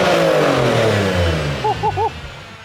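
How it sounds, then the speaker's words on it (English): Porsche 996 flat-six revving through a freshly fitted new exhaust, nearby and loud, its pitch sweeping down as the revs fall away, then three short blips of the throttle at the end. "the exhaust is done on the 996"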